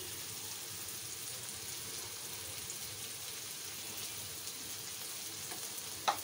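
Ground coriander goes into a hot pan and sizzles, a steady faint frying hiss that lasts throughout, with a small clink near the end.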